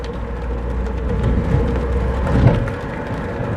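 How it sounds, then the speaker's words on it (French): A Tesla Roadster Sport 2.5 electric sports car accelerating: a steady electric motor whine over low road rumble, swelling briefly near the end. "c'est le bruit naturel de la voiture"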